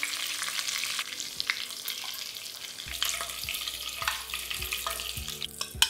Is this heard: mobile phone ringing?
no